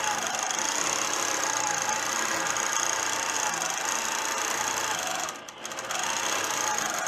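A sewing machine runs fast and steady nearby while free-motion quilting a swirl pattern with clear thread, a continuous whirring hum that pauses briefly before resuming.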